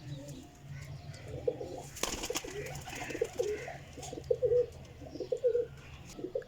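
Pigeons coo in a repeated rhythm at a loft, golden birds with red eyes among racing stock, moderately near and steady over a low background hum.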